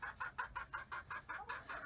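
Chickens cluck softly in a regular rhythm, about nine short calls in quick succession, faint and close by.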